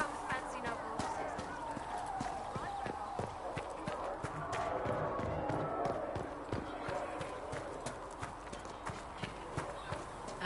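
Horse hooves clip-clop at a steady trot in the video game ESO, a dense rhythmic clatter running throughout under a speaking voice.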